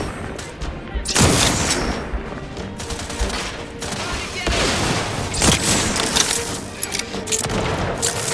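Gunfire in The Outer Worlds 2 during a fight near an entrenchment: dense, continuous volleys of shots and booms, with several sharp louder cracks standing out over a busy battle background throughout.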